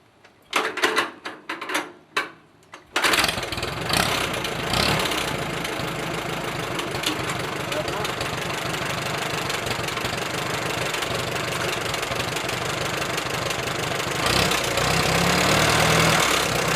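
Allis Chalmers B tractor being hand-cranked with a few heavy thumps, then the hot engine catches and settles into a loud, steady low idle that runs on without a break.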